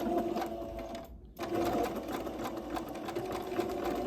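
A sewing machine runs a second seam on a flared dress, its fast steady stitching close and clear, pausing briefly about a second in before whirring on continuously.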